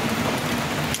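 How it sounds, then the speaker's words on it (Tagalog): Steady rain falls around an open hut, a constant soft hiss without breaks over a short moment. "So umuulan pa."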